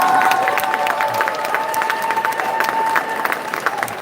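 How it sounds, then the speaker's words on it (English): A live-show crowd gives the production team a quick round of applause mixed with some cheering. The clapping is steady and close, and a sustained tone runs underneath it. "Let's give them a quick round of applause"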